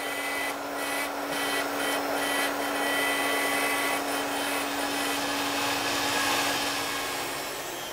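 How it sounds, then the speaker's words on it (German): Wood router milling pickup cavities into the body of an electric guitar, a steady, loud high-pitched whine with a constant hum underneath, running without pause throughout. "Und er fräst auch die Löcher für die Tonabnehmer."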